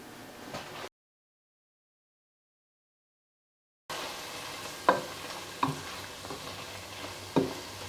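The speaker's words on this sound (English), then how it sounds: "so we'll let that saute for maybe about 5 minutes" Sausage and onions sautéing in a pan: a quiet steady sizzle broken by a gap of silence, then a few sharp utensil scrapes and taps against the pan.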